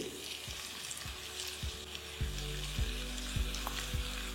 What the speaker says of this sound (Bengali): আর চিকেনটা দেওয়ার পর এটাকে ভালো করে আপনাদের মিশিয়ে নিতে হবে, আর আলুর সাথে এটাকে কুক করতে থাকতে হবে।